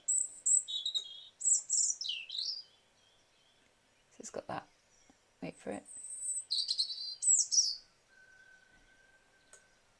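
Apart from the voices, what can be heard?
recording of a robin singing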